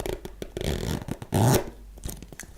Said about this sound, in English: So the zipper's on the side of this boot.